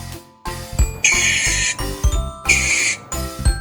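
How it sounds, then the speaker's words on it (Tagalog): A mink calling in a run of high, squeaky chirps and trills, with two longer bright bursts among shorter calls, heard up close and alone with no talking. "Mink."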